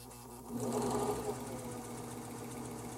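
A serger sewing machine stitches gathers with its needle tension tightened, a steady close mechanical whir that starts up and then keeps running evenly.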